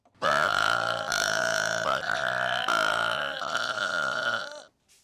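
A long, loud burp rolls on for several seconds with a strongly voiced, wavering tone, heard close up and alone.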